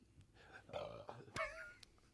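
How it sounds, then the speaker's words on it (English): A burp after drinking soda, one short gurgling belch in the middle, close by amid livestream chatter and low background noise. "I drank a soda beverage and it made me burp."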